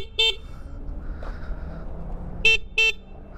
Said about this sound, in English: Quick horn test.